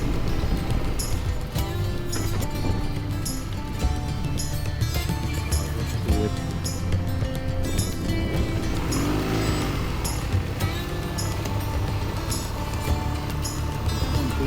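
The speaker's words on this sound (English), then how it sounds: "listening to the engine hum and soaking in the scenery" A BMW R nineT Urban G/S motorcycle engine drones and hums continuously while riding, loud and close, with a constant low rumble and no talking.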